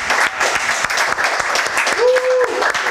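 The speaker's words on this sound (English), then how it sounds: "So everybody give yourselves a round of applause for showing up." A panel audience at Miami Blockchain Week applauds loudly and steadily, dense clapping filling the room from start to finish.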